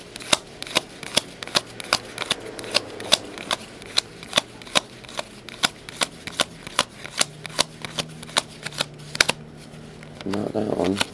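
Trading cards from a 2008 Limited and 2010 Classics football box break are riffled through quickly: a steady run of crisp, close card flicks, about two per second, with a faint background hum and a brief louder rustle at the end.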